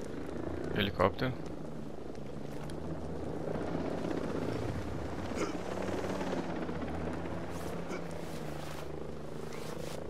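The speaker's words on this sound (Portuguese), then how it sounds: "Helicóptero." A helicopter's rotor drone hums steadily in the background of a Ghost Recon Breakpoint game scene, with muffled voices and scattered effects over it.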